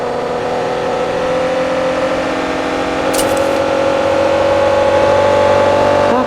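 A car engine runs at a steady, even drone with a clear humming pitch, loud and close throughout, with a faint brief click midway and no talk over it.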